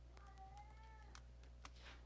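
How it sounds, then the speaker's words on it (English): A domestic cat gives a faint drawn-out meow indoors, well under a steady background hum, with a few soft clicks around it. "you can hear my cat meowing"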